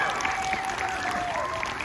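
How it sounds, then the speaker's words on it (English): An audience at a school's first-day-of-term gathering applauds, a dense and steady wash of clapping that fills the whole moment at even loudness. "Let's give him a round of applause."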